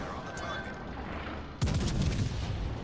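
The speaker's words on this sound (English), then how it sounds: "That's a Jean Bart firing HE shells" Battleship Jean Bart firing high-explosive shells in World of Warships: a sudden heavy naval gun blast with a booming, rumbling tail after a steady background hum, loud and close.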